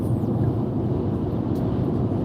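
An airplane passing overhead heard from a car on Highway 95 between Brunswick and St. Augustine, a broad steady low roar blended with road and wind rumble, continuous and fairly loud with no speech.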